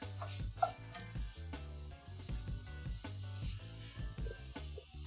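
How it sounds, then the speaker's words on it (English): Quiet sizzling of curry base in a pan with occasional stirring scrapes, faint and steady throughout. "I'm just waiting for this to come back to a full sizzle"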